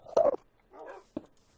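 A tamed wolf dog in Minecraft gives a few short whimpers and yips, with a brief bark-like blip near the end, against an otherwise quiet background.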